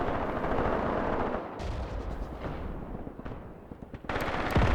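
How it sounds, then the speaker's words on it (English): Artillery guns fire in the war game Graviteam Tactics, a loud, dense barrage of rumbling blasts and sharp bursts that runs almost without a break across the whole stretch. "Damn, the guns are shooting slow."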